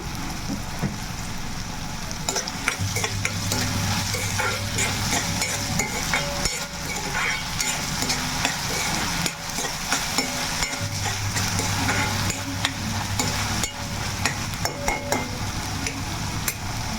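Sliced onions fry with coarse rock salt, stirred steadily in a pan for a chicken curry, giving a dense, continuous sizzle with scraping stir strokes throughout, close and loud without talk.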